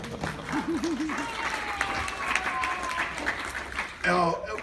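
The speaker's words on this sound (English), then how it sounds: "And we can, yes, applaud for them as well." Guests at a 70th birthday party applaud, a moderate scattered clapping that runs under ongoing talk and voices, with a louder burst toward the end.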